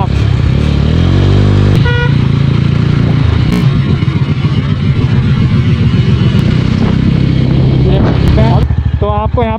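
A Mahindra Mojo XT motorcycle with its stock exhaust runs loud and close, its engine note rising and falling through revs over a dense traffic din with horn toots.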